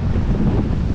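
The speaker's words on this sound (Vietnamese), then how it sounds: "bây giờ thì mùa này gió cực kỳ luôn" Strong seasonal wind at Mui Ne beach roars steadily into the microphone, a dense low rumble with surf mixed in and no speech.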